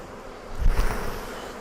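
Honey bees buzzing as they are shaken off a Flow Hive frame, a steady hum that swells briefly into a louder, close burst of buzzing.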